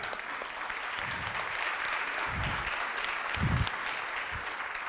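Audience applauding at a self-confidence seminar, sustained clapping from a crowd filling the room, steady and fairly close, with a few low thumps.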